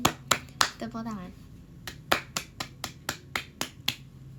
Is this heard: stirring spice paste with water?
no